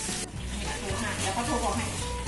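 Pork sizzles and crackles steadily on a hot Thai barbecue pan, a continuous frying hiss with bursts of popping throughout.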